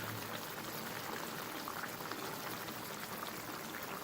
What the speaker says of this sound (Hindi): अब इसमें शामिल करेंगे कुकिंग ऑयल।